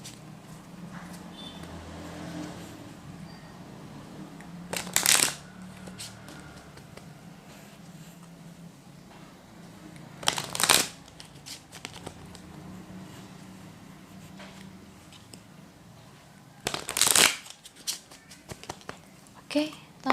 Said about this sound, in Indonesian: terutama ketika saya lagi shuffle kartu